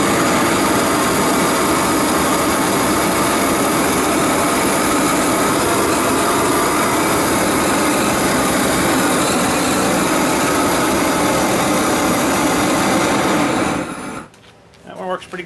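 A propane torch burns with a loud, steady, close roaring hiss that runs unbroken for most of the time before suddenly cutting off, leaving a few faint rustles.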